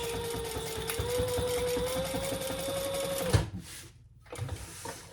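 A sewing machine stitches up the sides of a leather-style crossbody bag with card slots, a steady close whirring hum of rapid needle strokes that stops, followed by a few soft handling sounds.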